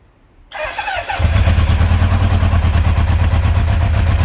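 A Kawasaki GPZ900R motorcycle engine on choke catches after a brief quiet moment, then settles into a loud, steady, close-up idle with a rapid mechanical clatter.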